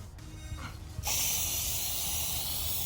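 Silver spray paint hisses from an aerosol can in one continuous close burst after a second of quieter rustling, sprayed in an engine bay during a Pontiac G8 LS swap.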